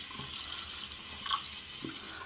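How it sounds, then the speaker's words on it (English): Tap water runs steadily into a sink as a straight razor is rinsed, a soft continuous splash with small close clinks and no talking. "Give it a rinse."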